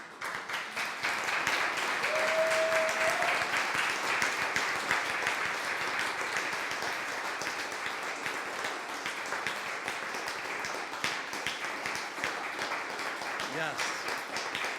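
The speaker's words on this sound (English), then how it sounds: "I feel that they deserve an acknowledgement with a round of applause for being here." Audience at a health heroes awards program gives a sustained round of applause lasting the whole stretch, steady and full without a pause.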